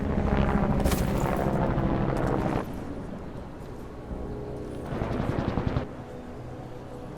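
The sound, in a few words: distorted helicopter sound in video game Deus Ex: Mankind Divided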